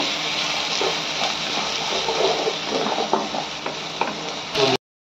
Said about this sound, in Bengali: আর দিয়ে দেবো পেঁয়াজ আর কাঁচা লঙ্কা বাটা, দিয়ে এটাকে নেড়ে চেড়ে নেব।